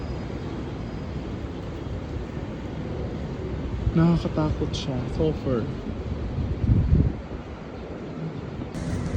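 Strong wind from Typhoon Ragasa roars steadily outdoors in Macau, a broad gusting rush throughout, with someone talking over it in the middle.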